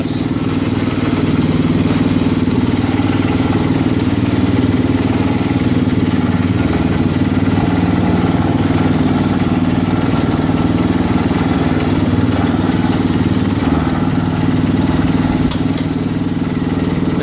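A John Deere 110 garden tractor engine runs steadily and loudly close by, a constant mid-pitched drone with no breaks.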